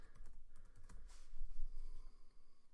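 Someone types software into a search box on a computer keyboard, producing quiet, irregular clusters of key clicks at close range.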